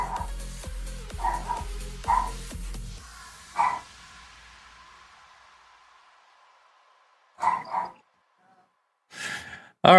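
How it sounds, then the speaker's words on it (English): A pet dog somewhere in a house gives a few separate, short barks. They come in brief bursts with quiet gaps between them, after some soft rhythmic thumping at the start. "I definitely heard a barking then."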